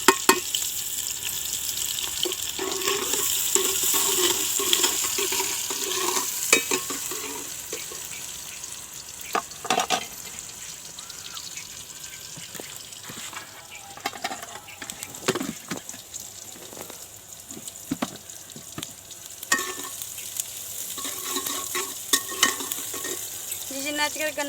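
Onions fry in a pot for aloo baingan sabzi, with a soft ongoing sizzle and repeated scraping and clinking of a spoon stirring, loud at first then settling.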